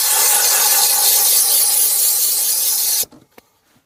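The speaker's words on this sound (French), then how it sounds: "Voilà, tu as vu l'efficacité d'un nettoyeur vapeur" A steam cleaner hisses loudly and steadily on car pedals for about three seconds, then cuts off abruptly, leaving a few faint clicks and quiet.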